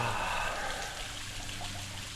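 Water trickles out of a small outlet near a secret waterfall on a bushwalk at Woy Woy, a steady soft dribble heard close and alone.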